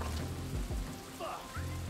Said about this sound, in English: Yeah, I could do without the rain.